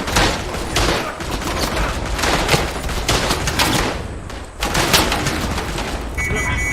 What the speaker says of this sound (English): Still someone on that machine gun.